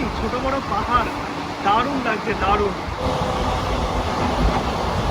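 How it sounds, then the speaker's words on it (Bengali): A passenger train runs from Guwahati toward Dimapur in Nagaland, its steady rolling rumble and rail noise continuous underneath a person talking excitedly over it. "ট্রেন কিন্তু ছুটে চলেছে গুয়াহাটি থেকে নাগাল্যান্ডের ডিমাপুরের পথে"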